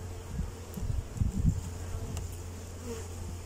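Bees buzz steadily and close by while a split colony is moved from a nuc into a full brood box. A continuous drone swells briefly in the middle, and nobody speaks.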